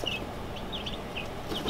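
Backyard chickens clucking softly in a short burst, a few close, quiet high-pitched clucks and chirps over low background noise.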